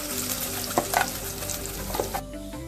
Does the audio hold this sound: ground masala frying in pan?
yes